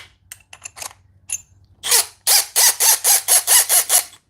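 A compact Milwaukee drill bores with a 1/2 inch twist bit, opening with a few short clicks and taps, then running in a series of loud, rhythmic bursts that rise and stop in quick succession, close by.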